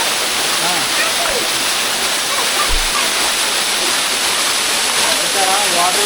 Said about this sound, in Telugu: బాగుంది వాటర్ ఫాల్స్.